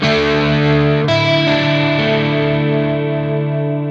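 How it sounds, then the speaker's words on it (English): A sustained electric guitar chord through a Quad Cortex with a pitch-based chorus effect, shimmering and wavering, a second chord struck partway through, ringing loudly and steadily with no talking. "If we add in the pitch, we get a little bit of a chorusing effect."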